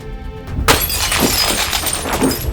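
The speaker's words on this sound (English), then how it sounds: "Strike the glass where it's weakest, near one of the bottom corners." A window pane struck hard near a bottom corner and shattering: a sharp impact followed by a loud burst of breaking glass and tinkling shards that continues for a couple of seconds.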